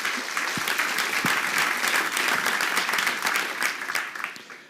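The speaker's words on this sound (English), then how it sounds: "Can we give Steve Harrigan a round of applause?" A live audience applauds steadily, dense continuous clapping from a crowd that holds for several seconds before tapering off at the end.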